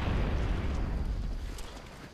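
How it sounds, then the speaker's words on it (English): A grenade explosion in Gears of War: Judgment gives a deep, rumbling boom that fades over about two seconds and stays low and fairly loud throughout. "She's got a grenade."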